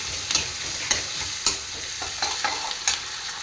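Onions and tomatoes fry in a pan with a steady soft sizzle, punctuated by five or six sharp clinks and scrapes of a spoon stirring at an irregular pace, close by and without speech.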